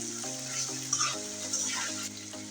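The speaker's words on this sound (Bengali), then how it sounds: "এতে আমি সবগুলো মাছ দিয়ে দিয়েছি, দিয়ে এখন ভালো করে কষিয়ে নেব" Poa fish sautéing in spice paste in a pan, a soft sizzle under a steady tonal hum, with a few light clinks and scrapes from stirring; no one speaks.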